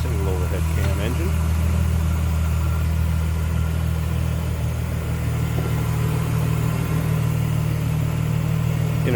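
A 2000 Plymouth Prowler's 3.5-liter high-output single-overhead-cam V6 idles steadily at close range, a low even rumble with a brief blip of revs near the start and faint voices in the background.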